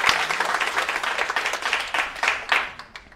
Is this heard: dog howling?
no